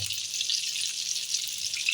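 Lasoda (lasooda) pickle frying with turmeric in a pan, giving a steady, close, bright sizzling hiss that runs unbroken without talk.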